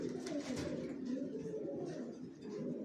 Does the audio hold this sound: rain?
no